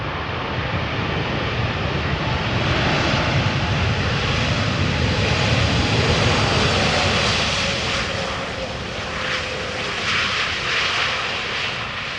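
An Air Malta airliner at Amsterdam Schiphol Airport, a steady jet engine rumble and roar that builds, holds, then thins slightly, with some wind buffeting and no speech.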